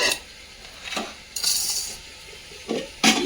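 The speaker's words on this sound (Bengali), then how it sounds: "বাটিতে একটু জল দিয়ে নিই।" Bowl rinsed with a splash of water while cooking chicken biryani: a few short clinks and scrapes of a bowl with brief watery rinsing bursts, close by, with no talk.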